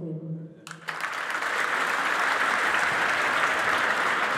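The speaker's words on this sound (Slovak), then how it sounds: "Naozaj veľký potlesk pre hádzanárskú legendu Antona Frola" A crowd at a handball event bursts into loud, sustained applause for a handball legend right after a brief spoken announcement, the clapping dense and steady to the end.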